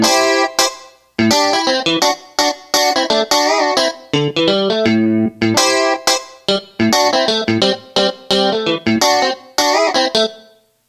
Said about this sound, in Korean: 이번에는 펑키한 연주를 한번 들려드리겠습니다